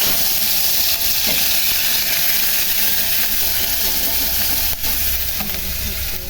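Onion and garlic fry in hot oil in a wok, a loud steady sizzle with hissing steam and occasional stirring scrapes throughout.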